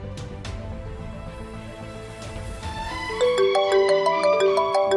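A phone ringtone chimes in a repeating electronic melody, growing louder and clearer over faint background sounds.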